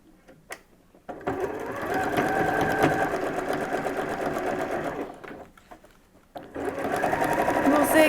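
A sewing machine running a small, tight zigzag stitch on a medical isolation gown, close and rapid mechanical chatter in two bursts separated by a brief pause, with someone speaking over it.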